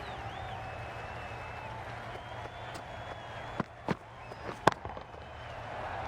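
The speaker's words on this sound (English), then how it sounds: "The crowd are on their feet to celebrate this remarkable performance." Cricket stadium crowd at an IPL 2022 match between MI and RR reacting to a wicket, a broad distant roar of applause and cheering with a few sharp claps and whistles, under commentary.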